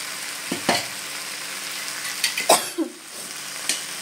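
Water hits a pan of frying prawn fritters, bursting into a loud sizzle with a few sharp hissing surges and scraping stirs between quieter stretches of simmering.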